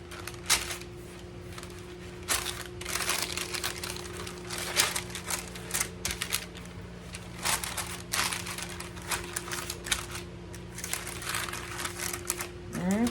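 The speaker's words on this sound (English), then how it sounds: "let's get our parchment paper back over here, our cookie sheet." Parchment paper crinkles and rustles on a cookie sheet while a rustic fall fruit tart is being made, giving close, irregular papery crackles and taps over a low steady hum.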